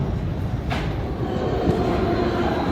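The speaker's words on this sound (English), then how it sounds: "The E train is here." A New York subway E train rumbles into Lexington Avenue–53rd Street station, a steady close low roar with a few clanks and faint rail noise throughout.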